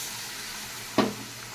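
A splash of warm water hits a pan of sizzling fried spice paste, giving one sharp hissing burst near the middle, then a softer steady sizzle carries on.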